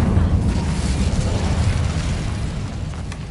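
A fiery blast from the Incendio spell in Hogwarts Legacy, a dense, loud, low roaring burst that rumbles steadily and fades slightly over a few seconds.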